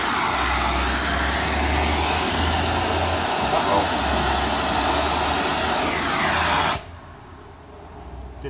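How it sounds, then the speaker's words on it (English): An oxy-acetylene torch heats a BMW trailer hitch with a steady, loud roaring hiss and low rumble, continuous for nearly seven seconds before it cuts off abruptly, leaving quiet background. "Oxygen and acetylene. Mix them together, make sparks. You can get it nice and hot."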